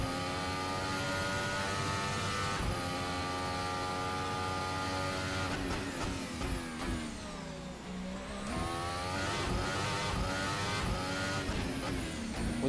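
A Formula 1 car in a racing video game screams around the Baku street circuit, the high-revving engine loud and continuous, dipping briefly mid-corner under braking and downshifts before climbing again, with no voices.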